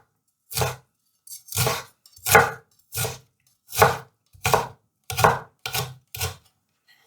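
A knife chopping a couple of centimetres of fresh ginger into small pieces on a cutting board, about ten crisp, evenly spaced chops, close and clear with quiet gaps between strokes.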